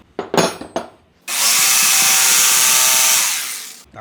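Power tool cutting wood for a handmade wooden hanger in a carpentry workshop: a couple of short knocks, then a loud, steady high whine lasting over two seconds before stopping abruptly.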